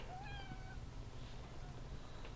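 A house cat meows a few times in quick succession near the start, close and clear, over a steady low indoor hum.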